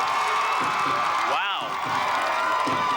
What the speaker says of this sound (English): This crowd's really into it now